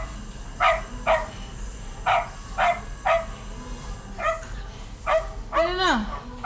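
A King Charles spaniel barks in a run of roughly eight short, sharp yaps at a steady pace, close and fairly loud, the last drawn out into a rising-falling whine over a low background murmur.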